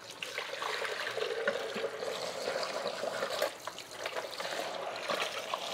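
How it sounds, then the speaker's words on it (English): Water runs and splashes steadily as a plastic blender container with sharp blades is rinsed out, a continuous close trickling wash with small surges, no talking. "Now we just empty it out, give it a good rinse."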